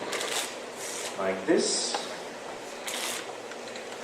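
A blue deck of playing cards shuffled by hand, with brief riffling bursts and soft flicks close by while someone talks over them.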